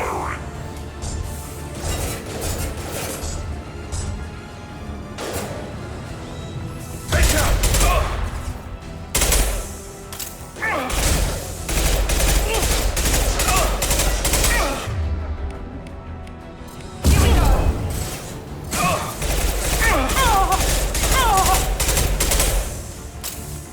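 Mass Effect 2 combat gunfire: repeated heavy bursts of automatic shots and blasts in several clusters, loud and close, with brief lulls and scattered impacts between volleys, a voice briefly heard.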